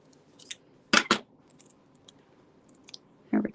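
Scissors snip through stamped paper to trim out a leaf shape for a card-making craft: two quick close cuts in succession, then a third crisp snip after a pause, with faint handling rustle between.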